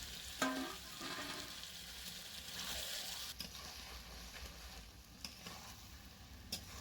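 Prawns, fried potatoes and greens stir-fry together in spice paste for Bengali sar chingri: a faint, continuous sizzle with a few soft clicks and scrapes of stirring, no voices.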